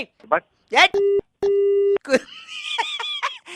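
Two long, steady electronic busy tones from a telephone line after a hang-up during a radio prank call, cutting in and out, followed by a voice talking and laughing.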